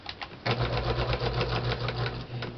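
A sewing machine runs a steady, rapid stitch down the side of a lace pouch, starting abruptly after a short quiet moment and continuing evenly and close up.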